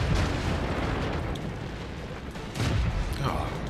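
A tank cannon fires in the World of Tanks game, a deep booming blast that rumbles on with a low tail and a second heavy swell near the end, sitting beneath a continuous battle drone.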